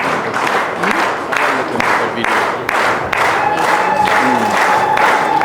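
Audience applause at a Berhan TV 14th anniversary celebration as an honoree is invited to the stage: a loud, dense crowd clapping that swells in repeated waves, steady and close throughout.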